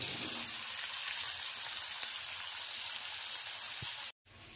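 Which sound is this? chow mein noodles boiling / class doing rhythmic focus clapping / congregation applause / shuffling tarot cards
chow mein noodles boiling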